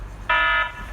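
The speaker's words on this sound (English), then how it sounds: "Alarm has been triggered Zone 1," A Hikvision wireless intrusion alarm system sounds an electronic alarm tone that blares steadily for a moment, cuts out briefly, then starts again, loud and close.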